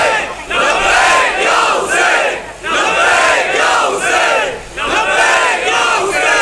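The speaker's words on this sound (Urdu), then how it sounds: "یہ جو علی ولی اللہ کی آوازیں ہیں" A large crowd chants the religious slogan "Ali Wali Allah" in loud unison, repeating the rhythmic phrase in waves with brief pauses between each roar.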